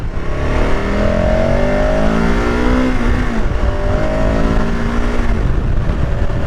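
A KTM 1290 Super Adventure S motorcycle accelerates hard, its engine pitch rising through gears in loud, close sweeps over wind rush, without speech.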